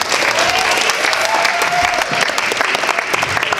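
A crowd applauding youth sports teams, players and coaches after a game: steady, loud, continuous clapping from many hands throughout, with a voice briefly audible underneath.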